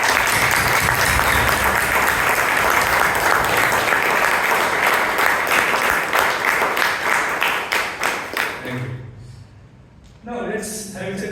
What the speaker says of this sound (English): let us give a loud round of applause to these guiding hands who carried the club for the last 6 months.